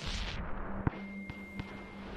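A single sharp firecracker pop in the video game Rain World bursts out near the start, followed by a couple of fainter knocks over a low, steady ambient hum.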